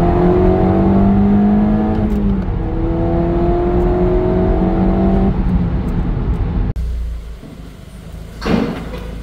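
A 2.0 TFSI turbocharged four-cylinder in an Audi S3 drones steadily under acceleration, its rising engine tone sustained and loud for several seconds before cutting off abruptly into quieter road and cabin noise.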